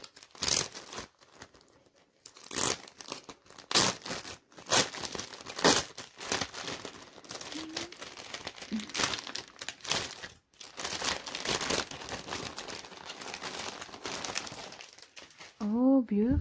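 Plastic packaging from a K-pop photocard order crinkles and rustles in close, repeated bursts, with a person talking throughout.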